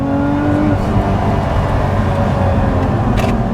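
A Lotus Emira sports car holds second gear on a back road, its engine a steady, loud droning hum with a faint whine, heard from inside the cabin with no voices.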